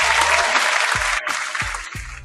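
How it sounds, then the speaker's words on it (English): Canned applause effect played during a podcast, a steady wash of crowd clapping running about two seconds, with brief low voice sounds underneath and a slight dip near the middle. "let me give you your applause, man"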